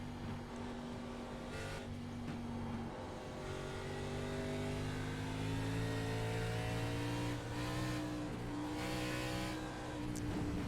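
An ARCA race car engine at Sonoma Raceway in the video game iRacing drones and rises in pitch through the gears, a loud continuous close rev with brief easing off the throttle.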